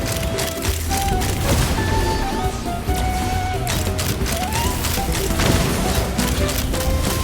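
Heavy sustained gunfire and crashing booms in Linnea Quest game combat, loud and dense for the whole stretch, with a voice faintly under the barrage.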